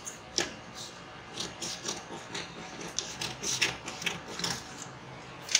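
Scissors cutting a fabric pattern piece, a run of quiet close snips and rustling crunches at an uneven pace, faint, with no speech.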